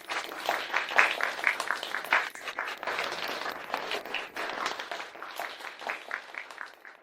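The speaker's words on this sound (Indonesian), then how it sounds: "Ketua datang, semua tepuk tangan." Applause from company employees greets the arriving chairman at a branch office of a corporate group, steady dense clapping filling the room for several seconds with some faint voices mixed in.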